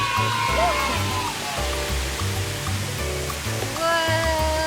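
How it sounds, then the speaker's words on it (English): A big outdoor water fountain splashes steadily as a broad, loud rushing roar, with voices and other sounds briefly heard over it. "Big water fountain."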